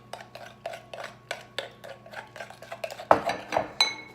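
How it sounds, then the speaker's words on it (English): Rhythmic scraping and clinking of a utensil stirring keto cinnamon roll dough ingredients with xylitol, vanilla and salt in a bowl, steady strokes close up with a louder knock near the end, no talk. "Now I'm going to mix this up good."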